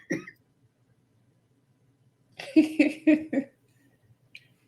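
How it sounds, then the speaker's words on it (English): A short burst of several rapid, throaty coughs in close succession, close to the microphone, surrounded by near silence. "Oh, hold on, I got a cough."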